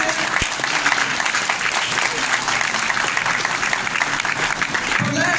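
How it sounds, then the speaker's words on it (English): Steady, loud applause from a crowd at a gun violence emergency summit, continuous clapping throughout with a thick wash of hands and no pauses. "Can we clap it up and greet a new friend?"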